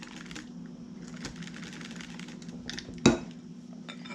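A cream and gelatin mixture is stirred quickly in a bowl, making light scraping and tapping sounds with one sharp clink of utensil against the bowl partway through.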